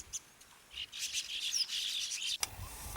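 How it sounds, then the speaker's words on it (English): Small passerine birds chirp at feeders in a courtyard in Kutch, Gujarat, with a flurry of quick, high tweets overlapping in the middle and a few fainter calls around them, fairly close against quiet background. "The bird feeders in the courtyard are always busy with local passerines."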